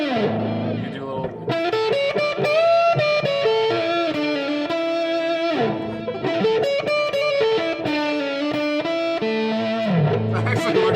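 An electric guitar played through a Black Arts Toneworks pedal with echo rings out in distorted, sustained chords and single notes, with brief gaps between phrases and a clear echo tail.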